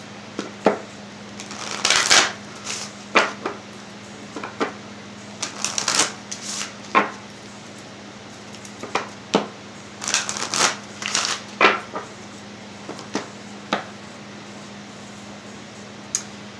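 Oracle cards are shuffled and handled for a tarot-style reading, with scattered crisp riffles, flicks and taps of card stock coming in irregular bursts over a low steady hum, close and clear with no speech.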